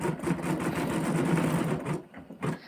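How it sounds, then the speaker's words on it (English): An embroidery machine stitches a pattern on a basket bottom, a close, steady, rapid mechanical chatter of the needle that stops abruptly near the end, leaving a few soft knocks. "This pattern is going to take an hour to sew out"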